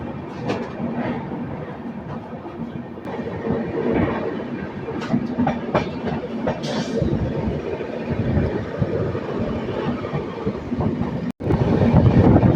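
A freight train rolls past near a small station between Duvvada and Anakapalli, a loud, close, continuous rumble and clatter of wagons lasting throughout, with a brief dropout near the end.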